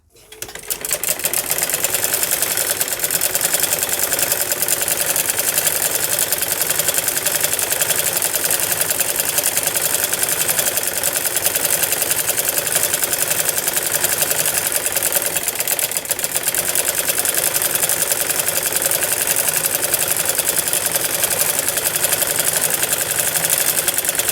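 A sewing machine runs steadily while stitching salwar pieces together, a dense, fast mechanical whirr that starts abruptly and holds at an even, loud level for the whole stretch, close by and with no voices.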